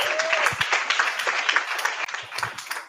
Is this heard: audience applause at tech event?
yes